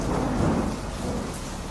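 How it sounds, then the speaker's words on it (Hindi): A thunderstorm with heavy, pouring rain and low rumbling thunder in an animated story set in a strange forest, a steady dense roar of rain under deep booming thunder throughout. "ये तो बहुत मूसलाधार वर्षा लग रही है"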